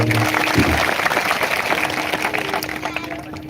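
Hands clapping along during a devotional kirtan at the Nilkantheshwar Mahadev temple, a dense run of sharp claps over sustained music and singing, fairly loud and continuous throughout.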